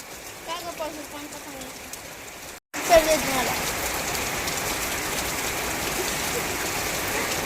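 Steady rain falls outdoors, a dense even hiss that fills the background; someone speaks briefly at the start, then after a short break the rain continues alone and slightly louder.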